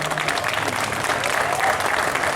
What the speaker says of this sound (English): Giving them a big round of applause